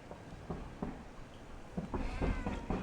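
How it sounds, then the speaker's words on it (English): A pet cat meows in a garage workshop during the restoration of a 1963 Ludwig Blue Oyster Pearl bass drum hoop, giving several faint, short calls over steady background noise. "But my cat, he wants to see what's going on here too."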